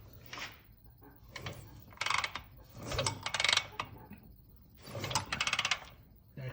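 Kickstarter of a 1966 BSA A65L motorcycle engine being kicked over, several close ratcheting mechanical bursts with clicks and gear whirs, separated by short pauses.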